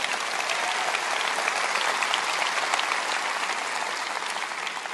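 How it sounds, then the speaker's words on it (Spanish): A church congregation applauds in a dense, continuous roar of clapping that holds steady and loud from start to finish, with no voices rising above it. "Dales un buen aplauso."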